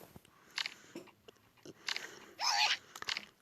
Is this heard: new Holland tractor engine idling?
no